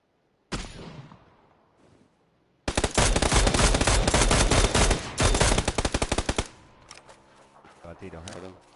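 Video game gunfire: a single sharp shot, then a long, loud burst of rapid automatic fire lasting several seconds, followed by scattered fainter shots, with a player's voice briefly heard.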